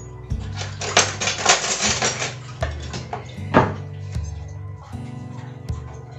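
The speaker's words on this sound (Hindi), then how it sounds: "धीरे धीरे इसे हम स्टर करते जाएंगे" Saffron being stirred in a pot for a Mahalaxmi vrat bhog, with repeated close metallic clinks and scrapes of a spoon against the vessel in uneven bursts, some sharper knocks among them.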